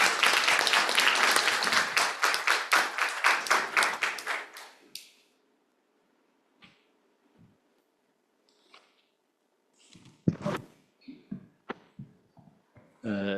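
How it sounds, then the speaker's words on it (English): Conference audience applauding a professor taking the floor at a Club of Rome session: dense, loud clapping for about four seconds that fades out, followed by near-silence with a few faint scattered knocks and rustles. "A big applause for him."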